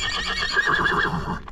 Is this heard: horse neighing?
yes